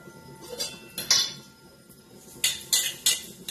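Metal steamer pot for palak kofta being handled with utensils, a few sharp clanks and clinks scattered close by, clustering toward the end, between quiet gaps.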